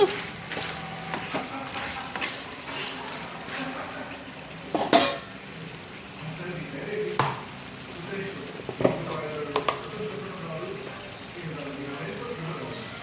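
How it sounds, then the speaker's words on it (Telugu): Ginger garlic paste frying for a spicy chicken curry, with a spoon scraping and clinking against the pan. Scattered metallic knocks, a few sharper clatters and a soft sizzling bed run throughout at moderate, close range. "పచ్చివాసన పోయేంత వరకు బాగా ఉడికించుకోవాలి. అల్లం వెల్లుల్లి పేస్ట్ కూడా బాగా వేగాక"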